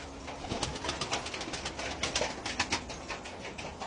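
Stray pigeons coo softly at a distance amid a rustling, noisy background, with repeated low murmuring calls throughout.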